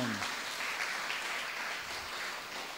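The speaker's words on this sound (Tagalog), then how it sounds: "Sige po, mas malakas na palakpak kay Lord." Church congregation at a worship service applauds in a continuous, even wash of clapping, fairly distant and steady throughout.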